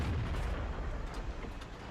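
A heavy tank gun fires in a tank video game and the shell ricochets off a T-43, a deep, loud booming blast that rumbles and fades over two seconds.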